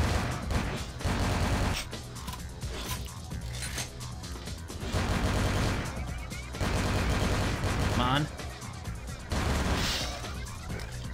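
Repeated gunfire in Vampire The Masquerade - Bloodlines, loud bursts of shots and clattering impacts in dense volleys across the whole stretch, with game music and effects layered underneath.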